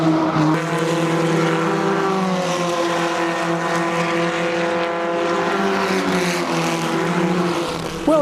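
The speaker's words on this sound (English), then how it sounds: "The Formula Ford Canadian Championship cars are on the track and they're flying." Formula Ford Canadian Championship race cars at a vintage festival at Mosport, engines droning loud and sustained with a steady harmonic whine that rises slightly and holds across the whole stretch, several cars blending together.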